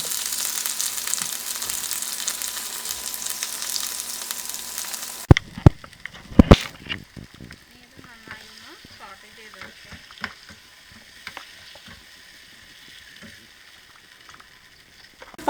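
Three small tomatoes sliced lengthwise go into a pan of sautéed onions for Kerala-style chicken roast: a loud, steady sizzle drops abruptly after a few sharp metallic clanks, leaving quieter sputtering and occasional utensil knocks.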